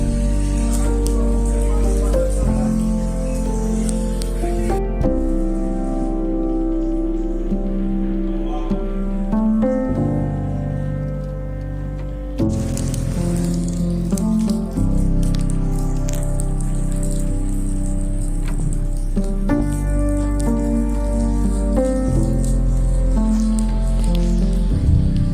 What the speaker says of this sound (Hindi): फुल तेज हो गई बारिश